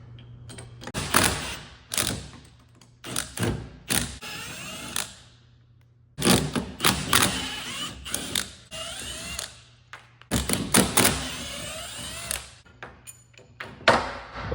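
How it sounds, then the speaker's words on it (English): Repeated bursts of an impact wrench removing four bolts from a Schmidt auto air valve, short rattling runs broken by pauses, close and fairly quiet. "Today we're going to be using the impact, so it's just a little bit faster. And we're going to take off these 4 bolts."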